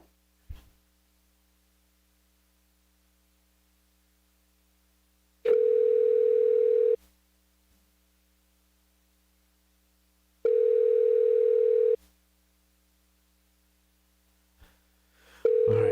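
Three separate bursts of a steady telephone dial tone, each about a second and a half long with long silences between, heard alone and fairly loud with no talking.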